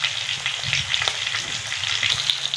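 Thick fish pieces fry on a tawa for a Lahori crispy spicy fish fry, with a loud, dense, close sizzle and crackle that pops steadily throughout.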